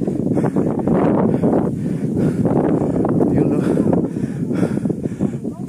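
Strong wind blowing over the summit of Mt. Talamitam, a constant loud rushing buffet across the microphone, with a person speaking briefly underneath.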